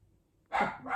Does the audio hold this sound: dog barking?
yes